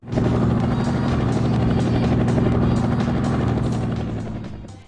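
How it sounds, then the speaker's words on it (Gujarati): Helicopter arriving in the online crime video game Grand Criminal Online, a loud steady rotor thrum with rapid blade chop that swells in quickly and fades slightly toward the end, heard alone. "તો પેલો બર્લિન ભાઈ આવી ચૂક્યા છે હેલિકોપ્ટર થી"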